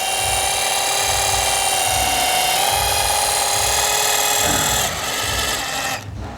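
A power buffer polishes the paint of a BMW Mini Cooper, running as a steady, loud motor whine with a constant pitch that dips and shifts toward the end.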